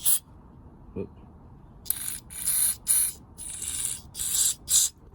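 Short bursts of aerosol spray hiss in a series of six or so, separated by brief pauses, close and fairly loud.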